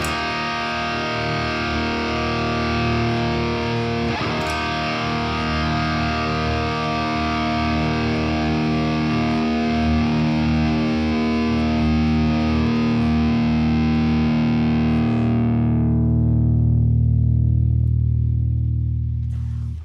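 Heavily distorted electric guitar run through the Polychrome Nunchuck amp sim plugin, thick sustained chords ringing loud and alone for most of the passage before the upper strings cut off and a low note rings out to the end.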